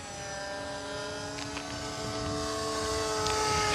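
A small UMX Air Tractor radio-controlled model airplane flies past with a steady electric motor whine that holds fairly loud and swells slightly as it draws nearer, with no talking.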